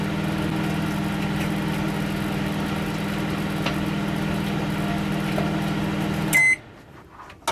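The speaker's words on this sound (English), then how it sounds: "Yeah, it doesn't sound the best, that magnetron, to be honest." A microwave oven with a failing magnetron runs with a steady, loud hum and buzz for about six seconds, then a short beep sounds and the hum cuts off into near silence.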